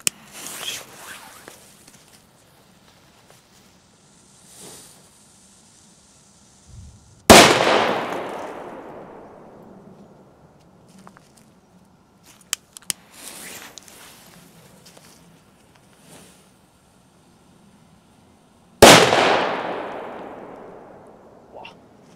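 Two loud, sharp Color Bang firecracker blasts, P1 class with 1.5 grams of charge, set off outdoors on New Year's Eve afternoon; each bang rings out with a long decaying tail, with faint crackles and quiet pauses in between.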